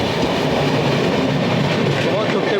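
The Prayagraj–Lalgarh Superfast Express overtakes, heard from aboard the Gaya–Delhi Amrit Bharat Express as a loud, continuous close rumble of passing coaches with rail clatter and a brief wheel squeal near the end.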